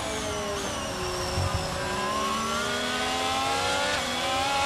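A Formula 1 race car with a Red Bull powertrain in the F1 22 video game, its engine a steady, loud, high-pitched whine that climbs as it revs and fills the whole stretch without pause.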